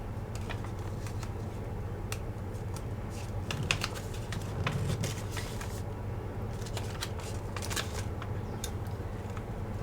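Paper creases and crinkles as it is folded into an origami Easter basket, producing a steady patter of light, close crackles and taps with no voices.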